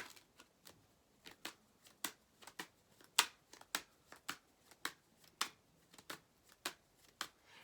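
Tarot cards are shuffled by hand in a quiet room, a steady run of around twenty crisp, close papery snaps and riffles ticking along in an even rhythm.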